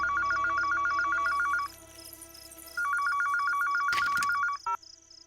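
A telephone rings in two clear electronic bursts separated by a short pause, loud and close, with a brief click or handset pickup near the end and no talking.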